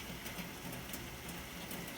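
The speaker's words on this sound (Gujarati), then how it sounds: "વરસાદ તો પૂછો નહીં એવો આવે છે ધોમ આવે છે" Steady, dense hiss of heavy rain pouring down without pause, with faint patters on top and no voices.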